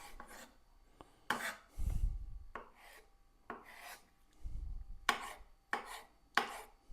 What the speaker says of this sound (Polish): I jajka również kroję w kostkę.